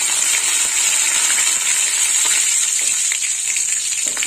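Dry red chilli, mustard seeds and curry leaves fry in hot oil as a tempering, producing a loud, continuous hissing sizzle with small crackles and pops throughout. No voices are heard.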